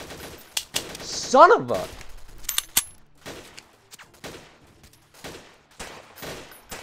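Video game gunfire in a guerrilla warfare shooter, a rapid burst of shots followed by scattered single cracks, close and loud, with someone talking over it.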